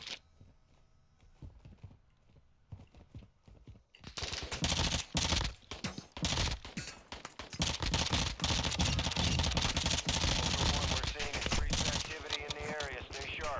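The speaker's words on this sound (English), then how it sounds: "I'm hearing gunshots continuously." Quiet at first, then a sudden burst of rapid, continuous gunfire in the video game Call of Duty DMZ that keeps going, loud and dense, with occasional talking underneath.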